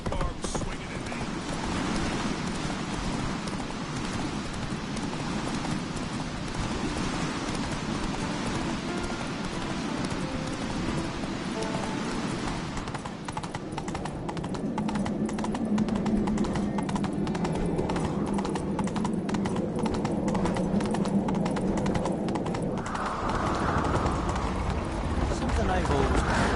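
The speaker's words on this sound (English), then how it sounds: "Giddy up. That's it, Roach." A horse galloping in The Witcher 3, with rapid, continuous hoofbeats under game ambience and rain-like hiss throughout, while characters talk over it.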